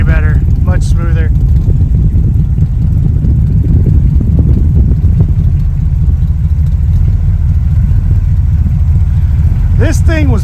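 Car engine idling smoothly and steadily after Edelbrock carburetor idle mixture adjustment, a continuous low rumble up close with a few brief voice sounds at the start and end.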